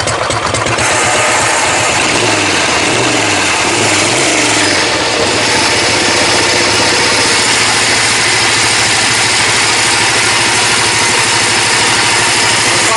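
A propane-fueled race mower engine idles loud and close, its steady throbbing rumble dipping and wavering briefly early on before settling into a constant drone.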